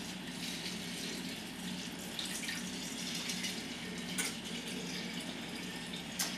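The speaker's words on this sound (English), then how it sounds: "fill it with filtered water one more time" Filtered water runs steadily from a tap into a container in a kitchen for sprouting grain, a continuous close splashing stream with faint drips, no voices.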